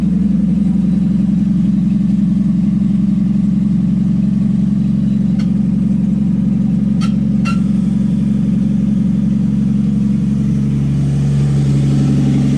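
An old Willys truck engine runs steadily, a loud low idle throbbing close by with no muffler, a few faint clicks partway through and a slight shift in tone near the end, with no talking.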